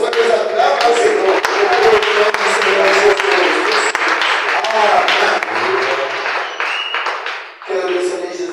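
A church congregation claps and cheers, a loud mix of hands clapping and voices close by, with a speaker talking over the applause throughout.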